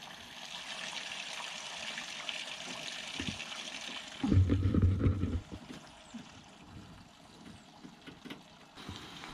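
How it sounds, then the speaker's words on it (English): Water runs through a camper's waste tanks as they are rinsed: a steady trickling flow that swells into a louder rushing gush for about a second, then settles back to a softer run. "And now he's rinsing so that it can rinse the tanks."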